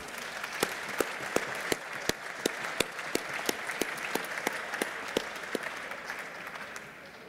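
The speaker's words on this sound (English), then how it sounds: "If you would please join me in a round of applause for the Zambian Army." An audience at a conference plenary session applauds a Zambian Army military demonstration. The clapping is steady and moderately loud, with sharp individual claps standing out, and it thins toward the end.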